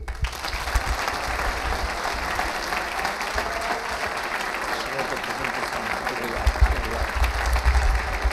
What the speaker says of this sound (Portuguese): forte salva de palmas